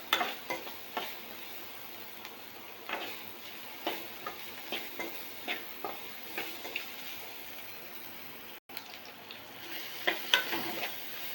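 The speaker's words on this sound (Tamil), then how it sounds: "இப்போ வெங்காயம் நல்லா வெந்துட்டு கோல்டன் கலரில் வந்துடுச்சு" Chopped onions fry in a pan for prawn gravy while a spoon scrapes and stirs them in a steady series of close taps and scrapes over a soft sizzle.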